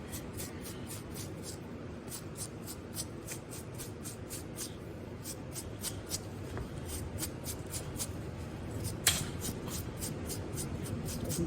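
Edges of a felted wool strip for a model horse saddle pad are roughed up by hand, giving a soft, steady scratchy rubbing with regular strokes, close and fairly quiet, with no talking.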